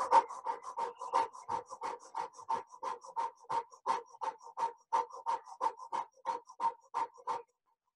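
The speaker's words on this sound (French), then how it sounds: "vous allez ouvrir la bouche en haut et faire la respiration du feu" Breath of fire from a Kundalini yoga session: rapid, rhythmic panting through an open mouth, around twenty forceful even breaths at a steady pace, close and alone, stopping just before the end.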